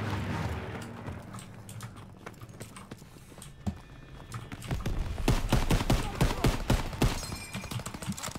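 Rapid gunfire in Call of Duty WW2 combat, a burst of sharp shots clustering in the second half, close and loud over a rumbling battlefield background, with faint voices.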